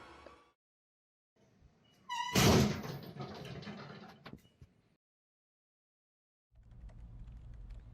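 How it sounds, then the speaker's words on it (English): A door is opened and slammed hard by someone fleeing human-like monsters: a loud single impact with a rattling burst, trailing off, after a short creak, then quiet before a low rumble resumes. "He opens the door and slammed it hardly behind him"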